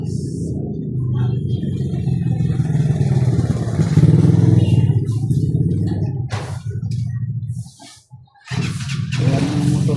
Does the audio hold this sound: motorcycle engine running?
yes